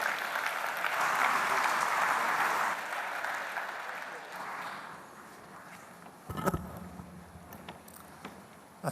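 Applause for an ambassador at a business partnership event, a full crowd clapping for a few seconds before thinning and fading, followed by a few footsteps and knocks near a podium.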